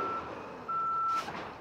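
Garbage truck reversing, a high electronic backup beep sounding in two long steady tones over low engine idle, fairly close and without any talking.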